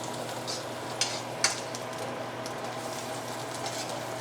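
Garlic butter sizzles softly in a hot pan while shrimp Rasta pasta is cooked, a faint continuous frying hiss with two clear utensil clicks near the start and light scattered pops.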